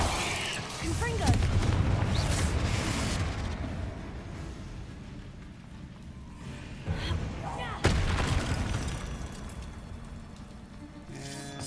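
A fiery Confringo spell bursts against spiders in Hogwarts Legacy, with heavy booming blasts near the start and again later amid rumbling combat noise, while someone talks over parts of it.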